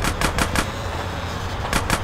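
Rapid bursts of automatic gunfire in GTA San Andreas Definitive Edition, loud and close, firing in quick repeated volleys with a short gap before a final burst, no voices over it.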